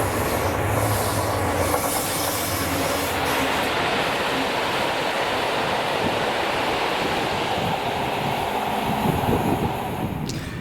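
A loaded freight train hauled by locomotive 7813 rolls past a station in Scotland. The roar is loud and close, with a continuous rumble and wheel clatter that holds steady throughout.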